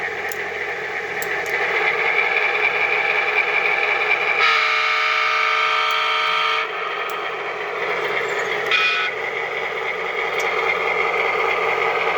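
An MTH model train locomotive blows its horn, one sustained multi-tone blast for about two seconds and a brief second toot, over a constant steady rumble of the running model's sound system, close and fairly loud.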